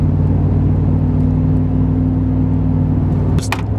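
A car engine idles loud and close with a steady, low throbbing hum, then drops off near the end as a brief clatter cuts in.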